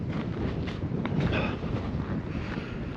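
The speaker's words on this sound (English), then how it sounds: "Man, it's really windy out here." Strong wind buffets the microphone on an open desert roadside near Baker, California, a steady broadband roar with gusts throughout, loud and continuous with no speech.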